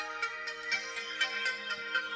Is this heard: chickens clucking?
no